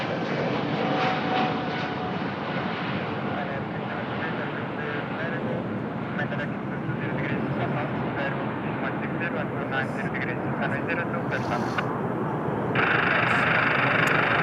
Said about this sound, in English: Lufthansa to Munich, an Airbus A320neo